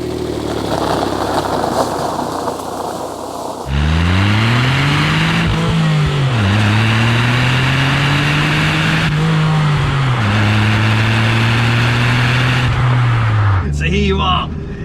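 A high-mileage Smart Brabus 451 pulls away and drives, its small engine droning loud and close with rising and falling pitch through several gear changes.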